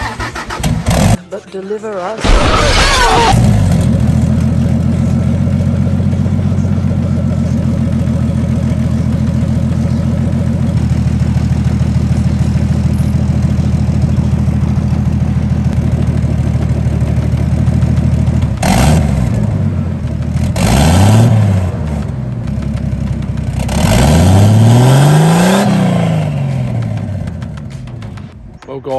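Toyota Land Cruiser 80 Series with a big turbo and no exhaust fitted cranks and fires, then settles into a loud, raw idle, followed by several rising and falling revs; a few words are spoken near the start.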